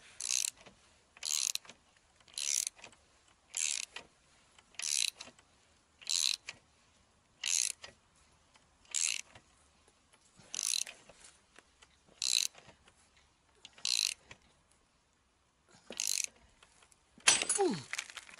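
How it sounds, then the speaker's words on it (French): A puller extractor is tightened to remove a ball joint from a Citroën Traction 11, a series of about a dozen short, evenly spaced ratcheting clicks, close and fairly quiet, with a brief scrape at the end. "Maintenant, je vais serrer l'extracteur."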